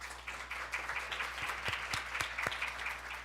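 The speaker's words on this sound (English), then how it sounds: "So let's give them another round of applause." Applause from a lunch plenary audience at a news event, a steady wash of many hands clapping at moderate level with a few sharper individual claps standing out, no talking.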